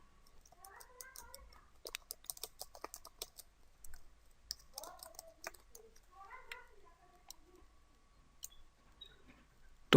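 Quiet, irregular clicks of typing on a computer keyboard, close by, with a cat meowing several times in between.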